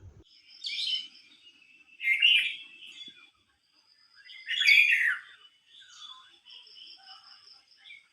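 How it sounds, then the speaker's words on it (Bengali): Birds chirp and twitter in several bright, high bursts across a quiet village morning, calls spaced with short pauses and faint tweets lingering between them, heard clearly without any talk. "গ্রামের সকালবেলা দেখো পাখির কিচিরমিচির শব্দটা জাস্ট অসাধারণ"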